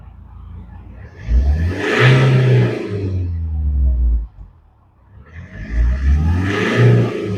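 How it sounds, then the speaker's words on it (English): A high-mileage BMW N47 diesel engine revved twice, each blip rising to a loud roar, holding briefly and then falling back to a low idle between the two bursts. "You rev that because you want to see that all your temperatures and pressures change accordingly when you depress the throttle."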